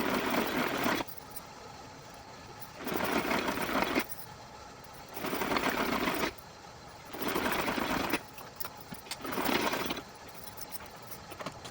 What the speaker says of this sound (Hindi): इस पर हम किनारे पर सिलाई लगाएंगे